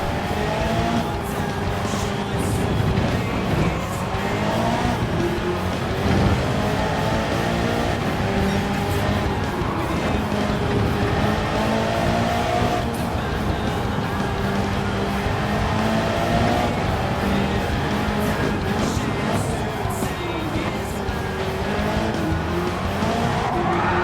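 Tires squeal and skid as a race car in Gran Turismo 7 drifts wide out of a hairpin. The loud, sustained screech rides over a roaring, revving engine for the whole stretch.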